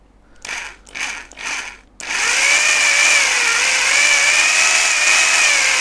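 A power drill gives three short revving bursts, then runs steadily for several seconds, its loud motor whine wavering slightly as a spiral paint mixing paddle spins slowly.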